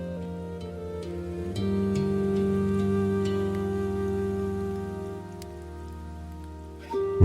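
Rain falls steadily on a surface, a soft continuous patter layered under sustained, calm musical tones.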